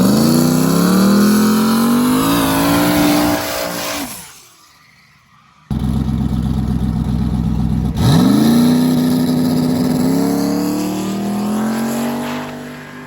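A yellow Mustang and a Ford truck drag race on a street, engines roaring loud and close with rising revs, a sudden cut to quiet, then another hard acceleration pass that fades gradually.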